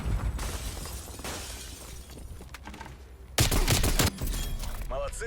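Rapid bursts of shotgun fire in the video game Call of Duty Cold War, with loud blasts crowding the middle and a clustered volley later, over steady game background noise.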